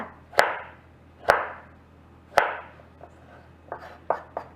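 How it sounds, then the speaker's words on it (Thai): Three crisp, evenly spaced knife chops cutting taro into sticks on a cutting board, followed by a quicker run of lighter cuts, close and with no talking. "หั่นเป็นแท่งๆ นะคะ"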